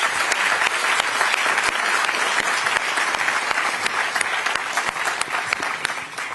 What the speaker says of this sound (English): With your applause, would you please kindly thank our wonderful panelists for a great discussion.